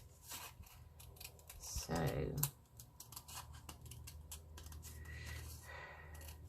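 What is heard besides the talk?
scissors cutting round a circular orange paper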